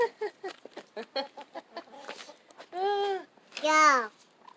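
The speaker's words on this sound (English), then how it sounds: "There's a chicken on the fence." Backyard chicken perched on a fence, giving a quick run of short clucks followed by two longer, louder drawn-out squawks, close by and heard alone.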